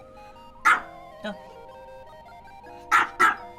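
A pet dog indoors gives four short, sharp barks spread unevenly across a few seconds, mixed in with a person talking nearby.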